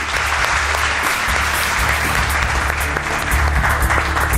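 A studio audience applauds the winner of a quiz show, dense steady clapping at close range for a few seconds with a low rumble beneath.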